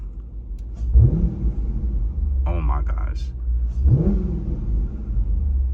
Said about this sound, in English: I'm gonna give it a couple of revs and just tell me what y'all think.